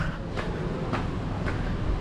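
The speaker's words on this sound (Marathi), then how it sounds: "तीन पस्तीसची तेज लोकल मुंबई मुंबईकडे जाणारी" A fast local train bound for Mumbai passes through Bhivpuri Road station near Karjat, a steady loud rumble with rhythmic clacks of the wheels at regular intervals, close by and with no talk.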